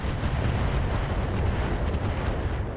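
A weapon fires at a Panzer mech in the BattleTech video game, heavy booming fire merging into a continuous, loud, low rumble with no gaps between blasts.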